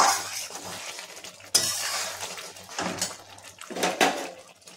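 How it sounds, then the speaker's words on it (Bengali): Egg tadka being stirred in a pan with kasuri methi just added, bringing soft scraping, clinks and knocks of a spoon against metal with some faint sizzling, a few sharper clanks now and then. "আবার আমি নাড়িয়ে নেব"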